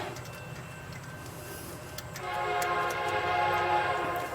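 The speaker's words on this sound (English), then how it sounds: "Oh, there goes my train." A passing train rumbles in the distance at a spot where a Dodge Dakota alternator is being replaced, swelling louder about halfway through with a steady tonal, horn-like layer over low rumble; no one talks.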